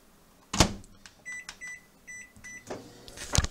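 A microwave oven warms pork chops: a door clunk, a run of short electronic beeps as the keypad is pressed, then another clunk near the end, all close and with no talking.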